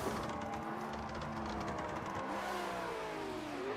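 A Toyota Supra and a GT86 rev their engines at a street-spec drift competition, a continuous distant engine roar with shifting pitch, steady and moderately faint against open-air background noise.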